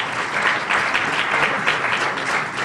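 Audience applause at an evening ceremony in Wellington, a dense, steady clapping from a crowd that stays loud and even throughout, with no voices over it.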